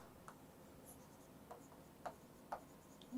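Pen scratching on paper while working out cost-price figures for a commercial mathematics lesson. A few faint, brief strokes come at uneven intervals against a quiet room hum, with no voices.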